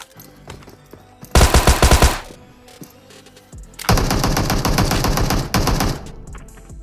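Automatic gunfire from a PUBG Mobile team fight bursts out in two loud, rapid volleys: one short burst, then a longer sustained stretch of continuous shooting.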